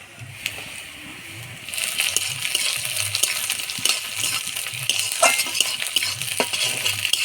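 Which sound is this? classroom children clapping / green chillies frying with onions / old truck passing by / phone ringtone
green chillies frying with onions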